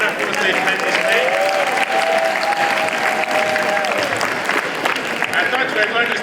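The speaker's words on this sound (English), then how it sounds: "May we give him stronger applause for the wonderful statement he's made." Audience at a town hall in Canada with the President of Ghana gives sustained, loud applause, a dense continuous wash of clapping with crowd murmur and a tone sweeping through.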